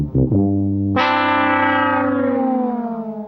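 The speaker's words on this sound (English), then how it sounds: "And it's I think it's a Monday jingle here." A homemade Monday radio jingle built from electronic tones that slide down in pitch, with distortion and echo on a sustained chord that slowly fades.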